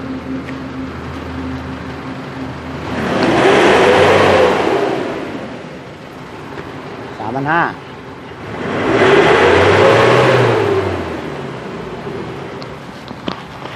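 An Isuzu D-Max diesel engine, sluggish and smoking black, with suspected injector knock, is revved twice in long swells to a loud roar, idling between them. Voices talk nearby.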